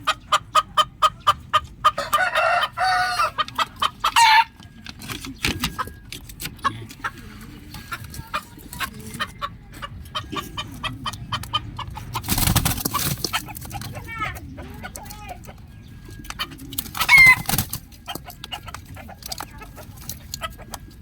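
Labuyo jungle fowl chickens in a backyard, clucking in scattered bursts with occasional louder calls, fairly close, while a person talks over them throughout.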